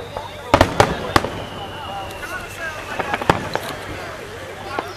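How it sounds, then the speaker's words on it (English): Fireworks burst over Nashville on the Fourth of July in a rainy night, with a run of sharp loud bangs and crackles at uneven intervals over steady rain noise and occasional talk. "That is the first and last time a rookie sets off fireworks in Nashville."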